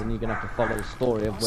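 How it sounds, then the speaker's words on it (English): A dog barks and yips in the background, several short bursts heard under continuous close talking. "Sorry for the dog barking in the background."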